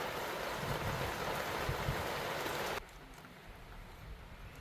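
Steady hiss of rain pouring down, loud and close, then abruptly dropping to a quieter patter partway through.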